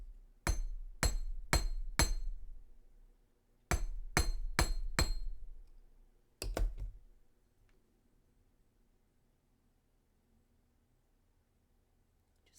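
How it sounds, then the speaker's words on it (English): A small jeweller's hammer lightly taps wire coil earring loops: two close, crisp runs of four quick taps, then a final double tap, followed by quiet with no talk. "I also like to just give these loops a light tap so that they stay"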